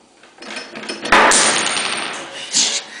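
A metal bolt rattling on a shaking table that holds an anti-seismic model house: a close, loud metallic clatter that starts suddenly, keeps buzzing, then flares again briefly near the end.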